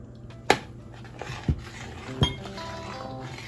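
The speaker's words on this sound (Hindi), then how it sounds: "ये इसको हल्की आंच पे करके और मुसलसल चम्मच चलाते रहना" A spoon works through kheer in a pot over low heat, making a few distinct metallic clinks and knocks against the pot with quiet stretches between them, close by.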